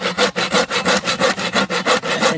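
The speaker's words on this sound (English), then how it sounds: "I just straighten my saw out a little bit, and I make sure that I run across this top line nice and straight here." Steady back-and-forth strokes of a hand saw cutting across a board for a greenhouse and barn build, about a dozen even rasping pulls in quick rhythm, close and loud with no talking.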